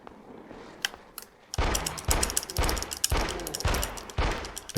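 Rapid gunfire in The X-Files: Resist or Serve, a couple of faint clicks, then a burst of loud, close shots repeating about every half second in an irregular volley.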